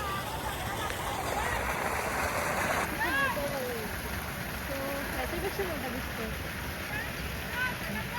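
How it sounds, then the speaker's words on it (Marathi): Monsoon-season waterfall near the Ellora Caves, heard as a continuous hissing rush of falling water at a distance, with people talking over it. "दुसरा वॉटरफॉल चालू आहे."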